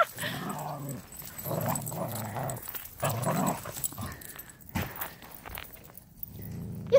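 A dog playing and moving around indoors, with scuffling paws, soft thumps and low snuffling in irregular bursts at close range, punctuated by a sharp knock.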